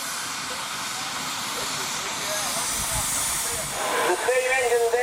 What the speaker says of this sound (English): The steam engine down on the west end, he's got it in a neutral.